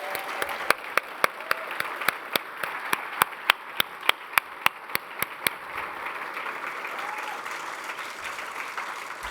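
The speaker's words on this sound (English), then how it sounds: "a round of applause and a big thank you from all of us might go a far way" Audience applause after a call to thank a team at a podium talk on emerging technologies: a steady crowd clapping with a series of sharp individual claps standing out over the first half, then a thinner patter fading out.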